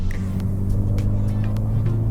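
A Volkswagen MK6 GTI with a CTS Turbo lightweight crank pulley pulls in fourth gear from around 3,000 rpm, a steady low engine drone heard from inside the car for a couple of seconds, with no talk over it.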